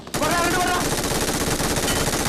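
Rapid automatic gunfire in the mobile shooter game BGMI, a loud dense burst of shots rattling on continuously after a brief quiet start, with a faint voice underneath.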